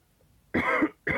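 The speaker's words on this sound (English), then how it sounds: "I keep coughing" Two harsh, close coughs, the first longer and the second starting just after a short pause, with no talking.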